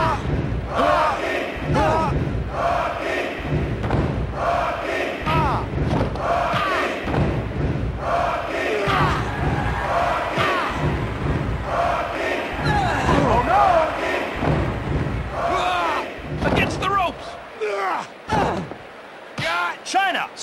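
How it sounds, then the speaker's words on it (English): A wrestling arena crowd in WWF Attitude on PS1 roars constantly beneath a commentator's voice, with thuds from the ring mixed in throughout. "This crowd is crazy."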